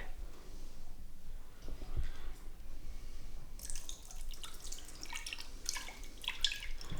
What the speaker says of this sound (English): Now we want to add 240 millilitres of milk and the yeast.